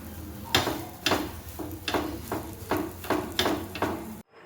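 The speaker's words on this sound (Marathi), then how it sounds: "आता दोन्ही साईडनं आपल्याला हा भाजून घ्यायचा आहे" Flatbread made with bottle gourd (dhapate) roasting in a pan on both sides, with a series of regular soft scraping and tapping hits roughly every half second, moderately close, with no talking.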